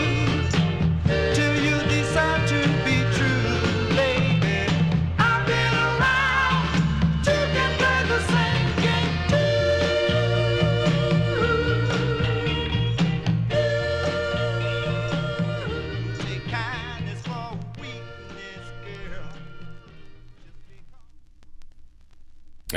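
A 1960s soul 45 plays steadily on vinyl with full band and vocals, then gradually fades out toward the end.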